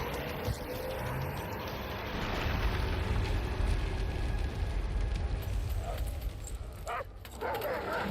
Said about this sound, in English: They're dogs.